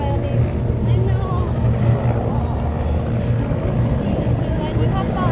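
A Griffin search-and-rescue helicopter flying slowly back over the area at the Canadian International Air Show in Toronto, a loud, steady low rotor thrum and engine rumble filling the whole stretch, with crowd or announcer voices faintly underneath.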